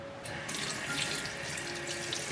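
Tap water runs steadily as cut grass carp belly pieces are rinsed in a kitchen sink, a close, continuous splashing stream with no talk.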